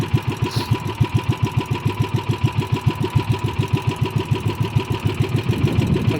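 A small engine idles close by in a steady, rapid chugging pulse with an uneven, slightly stumbling beat, loud and alone with no voices.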